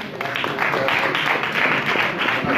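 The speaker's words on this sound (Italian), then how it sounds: "Un applauso." Applause from the audience at the opening of a nativity crib exhibition and competition, a dense burst of clapping that stays loud and steady for the whole few seconds.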